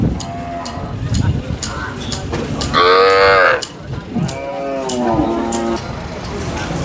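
Cattle at the Sangola cattle market: a loud, close drawn-out moo stands out, followed by a second lower moo, over steady crowd murmur, with people talking nearby.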